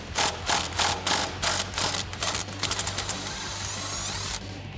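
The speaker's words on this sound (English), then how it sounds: "We're gonna use an 11mm socket to get that out." Rapid ratchet clicks in short repeated bursts as an 11mm socket backs out the steering column bolt on a 2014-2018 Silverado 1500 / Sierra during a lift kit install. Up close and fairly steady, with no talking.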